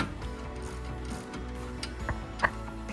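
A ratchet wrench loosens the 16mm lower ball joint nut on a Mini Countryman 2.0 diesel R60, giving rapid mechanical clicking with a couple of sharper clacks near the end.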